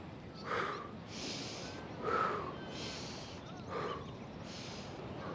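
Slow, audible breaths come in several soft, airy waves, exhalations during a qi gong stretching routine outdoors in Bali, faint and close with a steady gap between each.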